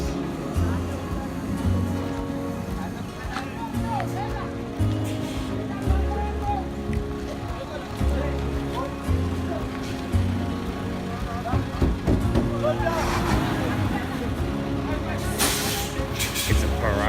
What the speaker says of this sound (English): Here comes our bus.